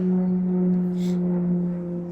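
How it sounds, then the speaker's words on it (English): A Pilatus PC-21 training aircraft of the Roulettes aerobatic team passes overhead, giving a steady, faint, distant engine drone with a broad whoosh that swells briefly as it goes by. "PC-21. It's one of the roulettes flying overhead."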